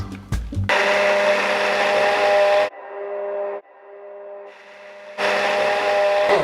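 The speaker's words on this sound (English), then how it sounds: "Time to blend." A blender whirs loudly, emulsifying aquafaba, vegetable oil and salt into aioli, running in two strong bursts separated by a quieter, lower-pitched stretch of motor hum.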